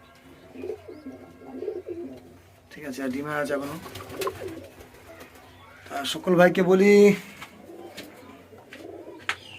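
Domestic pigeons in a home loft coo in soft, throaty rolling phrases, growing louder toward the end, while someone talks over them.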